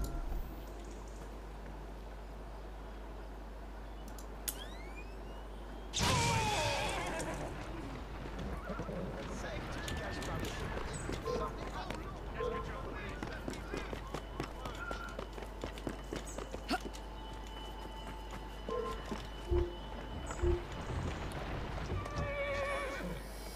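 Horses in the video game Assassin's Creed Syndicate neigh and whinny, with clip-clopping hooves and running steps over a continuous low game hum, layered with scattered clatter and effects.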